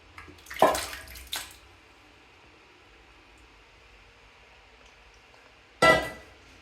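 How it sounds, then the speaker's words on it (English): A Kohler Highline toilet flushing cherries: two close rushing bursts of water, a short gap, then another loud flush surge near the end, with no talking. "I'm going to be flushing some little cherries."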